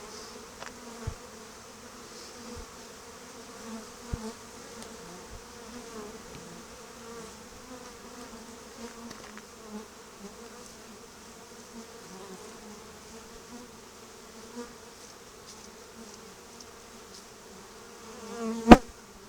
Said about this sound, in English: This has a lot of bees on it.